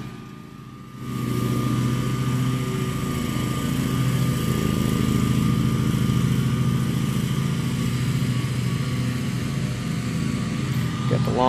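Lawn mowing and leaf blowers drone steadily across the way, starting after a second and holding a loud, continuous engine hum with a high whine, mixed with faint speech.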